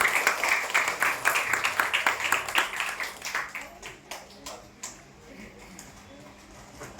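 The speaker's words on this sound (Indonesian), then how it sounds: "Tepuk tangan dulu adik-adik." Children at an orphanage clap in unison in a quick, rhythmic pattern, loud at first and then thinning into scattered claps that fade toward the end, with a little background voice.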